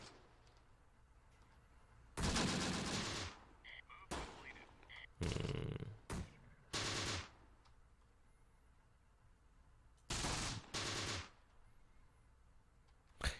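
An artillery barrage in the war game Close Combat: The Bloody First, with several heavy booming blasts in irregular bursts, some closely spaced and others seconds apart, over quiet background noise.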